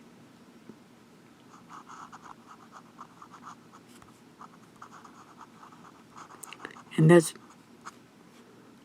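Vintage Omas Milord fountain pen scratching lightly across paper in a steady run of faint strokes, with one louder scrape near the end, under quiet speech.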